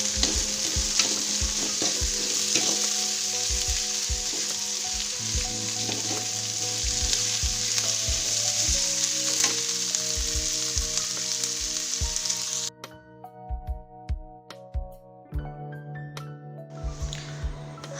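Cumin, fenugreek and mustard seeds fry in hot oil with a constant bright sizzle, punctuated by regular clinks and scrapes of a spoon stirring the pan; the sizzle drops away abruptly near the end, leaving sparse stirring taps.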